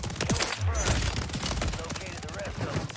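Rapid bursts of M4A1 automatic gunfire in Warzone 3, sharp cracks in quick succession with someone talking over the shooting.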